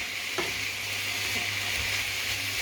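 Banquet rice frying in a pan, a continuous close sizzle with a few faint scraping stir sounds, no talk.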